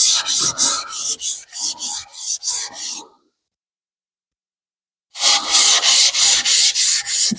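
Single bevel knife drawn across a sharpening stone in quick rhythmic rubbing strokes, about a dozen close scrapes, then a two-second pause before another burst of strokes.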